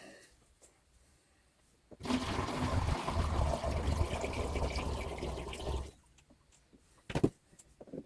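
Dark acid solution from a gold recovery job on mixed e-waste pours steadily back into a bottle, a close, loud liquid rush lasting a few seconds before stopping, followed by a couple of faint clinks.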